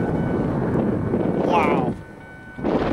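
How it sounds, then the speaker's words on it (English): Gusty wind roars across the microphone on an open road through ranch country, loud and continuous before dropping out briefly near the end, with a voice speaking over it. "Whoa, it's windy."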